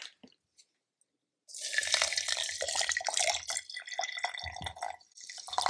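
Hot water that has just come off the boil pours into a teapot for Earl Grey tea, a close, bright, splashing stream starting after a second of near silence and running steadily with gurgles.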